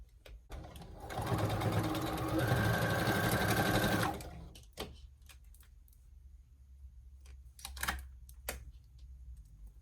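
A sewing machine stitches a T-shirt dress in a fast, loud mechanical run of about four seconds, then stops, followed by quieter clicks and handling of fabric.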